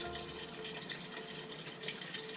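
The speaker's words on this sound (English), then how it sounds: "So I'll put enough bone broth in to cover all the ingredients" Bone broth pouring into a pot of taco soup ingredients, a steady close-up stream of liquid splashing with a continuous watery rush.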